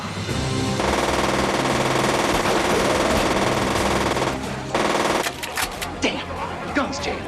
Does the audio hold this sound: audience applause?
no